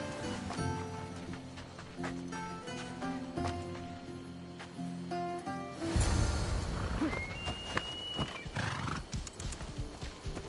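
Horse hooves clip-clop steadily under orchestral game music in Assassin's Creed Odyssey, followed by a loud whinny and snorting as the ride goes on, with the music continuing beneath.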